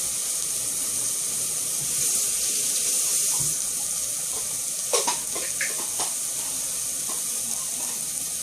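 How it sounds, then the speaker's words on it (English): Water runs steadily into a pot of ragu sauce, its hissing pour joined by soft sizzling, with a few light knocks and clinks of cookware near the end. "Put a little bit of water"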